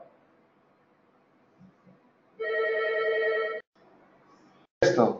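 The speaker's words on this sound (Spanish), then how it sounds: "¡Contesten el teléfono!" A telephone rings with one sustained electronic trill lasting about a second, loud and clear over quiet room tone, followed by a brief shout.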